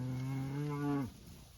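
A single long, loud moo from a cow during a morning cattle drive to fresh pasture, close by and steady before cutting off abruptly, with faint outdoor background afterward.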